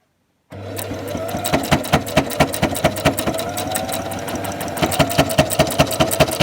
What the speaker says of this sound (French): on va venir faire une petite couture droite ici sur le côté